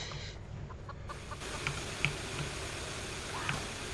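In a Roblox game, a chicken gives a few short, sharp clucks at moderate distance over a constant dense background of game ambience.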